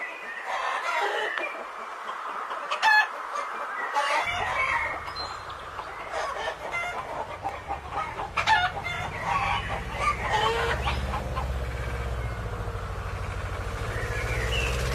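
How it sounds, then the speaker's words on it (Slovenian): A rooster crows repeatedly amid clucking hens and other farmyard fowl, loud and close, over a low rumbling background. "Kaj ne, petelinček? Ti zgodaj vstaneš in zbudiš vse na kmetiji. Slišiš?"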